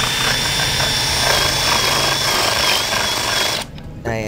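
Stanley SBD715 cordless brushless hammer drill boring into hard cam xe wood, a steady loud whine and rattle lasting several seconds before cutting off near the end, with no talk.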